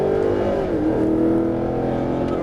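A Mercedes-Benz SLS AMG on a track in Las Vegas, its engine loud and close, revving under throttle then dropping pitch through an upshift before pulling again.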